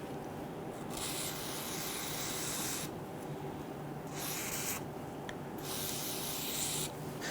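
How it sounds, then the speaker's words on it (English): Repeated bursts of silicone spray hissing from an aerosol can, a few seconds each, close up, separated by short pauses under a steady background hum, during a tailgate handle replacement on a Toyota Tundra. "we're just using a basic silicone spray with this here"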